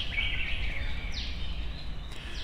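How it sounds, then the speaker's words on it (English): Birds chirp around a temple in Chiang Mai, Thailand, their high calls faint and steady over a low outdoor rumble, with no one talking. "As you can hear, there's a lot of birds around, chirping away."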